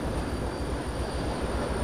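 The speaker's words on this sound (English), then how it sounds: "Got run over by my own train." A train runs in the Derail Valley railway game, a loud, steady rumbling roar with no break, heard close up.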